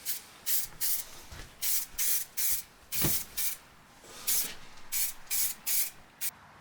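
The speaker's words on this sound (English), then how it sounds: "And I then just give it a couple of coats here of rattle can white" A rattle can of white spray paint hisses onto MDF in a dozen or so short, sharp bursts of even length separated by brief pauses, close and fairly loud, with faint handling noise between sprays.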